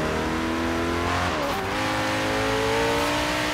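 A car driving laps in Forza Horizon 3, its engine droning loud and steady with a sustained rising tone and a brief wobble partway through. The sound is close and continuous, with no voices.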